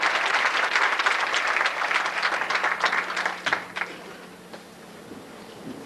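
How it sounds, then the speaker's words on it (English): A crowd at a high school pageant applauds steadily and loudly, the clapping thinning out and trailing off into scattered claps toward the end. "Please give a warm round of applause"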